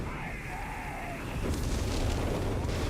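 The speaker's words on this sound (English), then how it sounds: "and the Vespa barrage coming in" A Vespa barrage lands in a Company of Heroes 3 tournament match, sending out deep booming explosions that swell and roll together in the second half over the game's ongoing battle noise.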